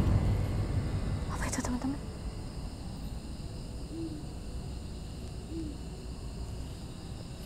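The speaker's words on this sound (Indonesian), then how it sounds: "Kalian dengar sesuatu? Burung hantu ya?" A few soft owl hoots sound at a distance over a constant hiss of insects and crickets, spaced a second or so apart.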